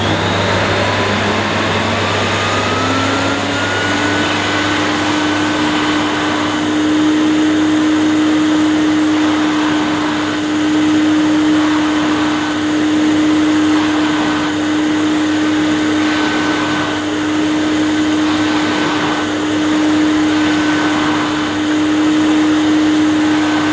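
A 1980s Hoover Sensotronic System 3 S3132 vacuum cleaner runs steadily and loudly close by, its motor whine rising in pitch during the first few seconds as it spins up and then holding a constant drone throughout, with no talking.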